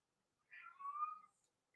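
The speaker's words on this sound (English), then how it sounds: "Just listen to my cat." A pet cat gives a single drawn-out meow, clear and close, rising then falling over about a second in an otherwise quiet room.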